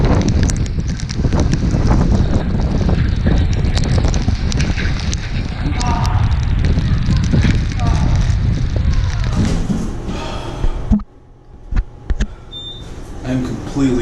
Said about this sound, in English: It's raining. Raining, raining, raining really hard.